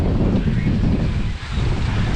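Strong wind blasting across an outdoor field, a loud continuous roar of gusts hitting the microphone that barely dips, with no voices.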